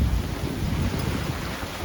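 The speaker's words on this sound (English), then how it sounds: "You can see it's pouring rain." Heavy rain and gusting wind, around 27 knots, lash a boat anchored in a small harbour during a storm, a steady loud broadband roar with constant low rumbling buffeting throughout and no speech.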